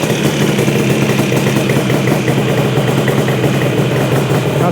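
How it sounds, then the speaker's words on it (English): A Yamaha RD400 motorcycle engine idling too high, a steady loud buzzing drone with a continuous even pulse and no talk over it. "Not supposed to idle on 4 grand, is it?"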